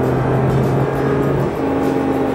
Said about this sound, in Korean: 엑셀을 밟을 때 소리, 우웅 하는 소리